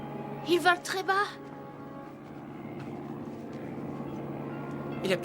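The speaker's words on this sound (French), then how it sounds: "C'est un avion?" A low-flying airplane drones steadily through fog, a faint, sustained engine hum that slowly builds, with short voice-like bursts near the start and the end.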